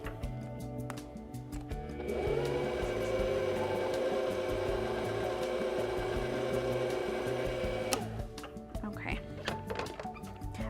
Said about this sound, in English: I'm gonna start by letting the whisk do a little bit of the work